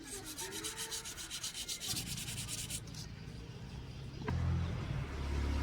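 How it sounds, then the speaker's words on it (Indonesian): Rhythmic rasping strokes of 400-grit sandpaper smoothing paint on a motorcycle wheel rim, quick back-and-forth scrubbing up close, then a heavier rumbling noise takes over. "Kita amplas pakai ukuran 400 terlebih dahulu, di amplas di bagian sini untuk meratakan catnya."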